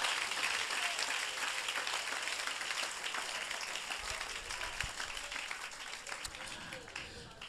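A church congregation at a midday prayer service applauds to acclaim the Lord, with sustained dense clapping, fairly distant and mixed with voices and crowd noise, fading slightly toward the end.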